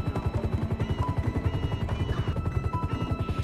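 Helicopter in the GTA V video game flying overhead, a loud, steady rotor chop with rapid rhythmic thumping throughout, no voices.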